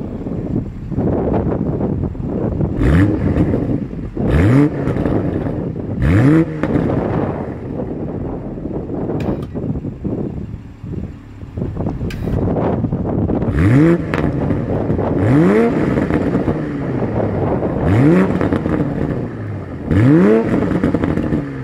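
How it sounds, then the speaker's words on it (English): A 2020 Toyota GR Supra with brushed stainless steel dual exhaust tips revs repeatedly, each rise and fall of the engine note clear and close amid steady wind buffeting, with no talking. "Here is that 2020 Toyota Supra exhaust clip."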